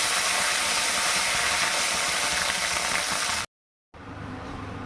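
Tomatoes hit hot oil in a pan just used for frying fish, giving a loud, steady broadband sizzle that cuts out abruptly for a moment and then resumes more softly.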